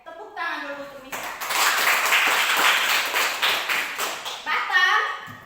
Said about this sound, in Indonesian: tepuk tangan dulu untuk Miska